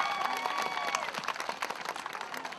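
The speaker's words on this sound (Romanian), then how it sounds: "aplauze, vă rog, pentru cel de-al cincelea membru al juriului, domnul Mihalache Gheorghe" Scattered clapping from an audience at an outdoor village folk festival greets a jury member, moderate and somewhat distant, with some crowd murmur.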